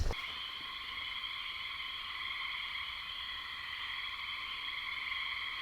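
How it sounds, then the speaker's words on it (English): A dense, continuous chorus of pine barrens tree frogs, gray tree frogs, Fowler's toads, carpenter frogs and spring peepers trilling and calling together, steady throughout and heard from a short distance. "we can hear pine barrens tree frogs, gray tree frogs, Fowler's toads, carpenter frogs, spring peepers"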